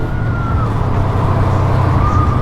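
An RKS A250 motorcycle engine accelerates in fourth gear, a loud, steady low drone with a faint whine that slowly climbs in pitch across the whole stretch.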